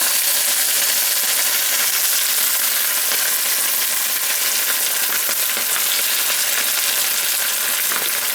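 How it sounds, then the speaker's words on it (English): MRE breakfast food frying in oil in a pan, giving a steady, dense crackling sizzle with spattering pops, close and constant throughout without any talking. "I'm just kind of spattering around now"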